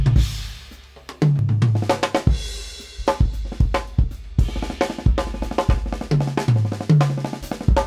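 Fast drum fills on a kit with clearly graded dynamics, strong accented hits standing out against quieter ghost-like strokes, tom rolls descending in pitch, played close and alone for several seconds.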